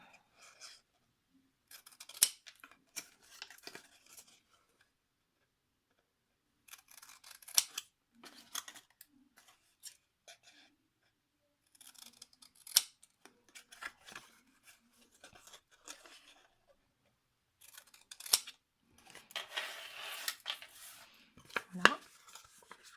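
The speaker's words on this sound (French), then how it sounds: "Et donc je vais découper ces pointes." Scissors snip the points off a paper envelope kit, crisp close cuts in several separate runs of quick clipping separated by quiet pauses, with a few faint rustles of paper.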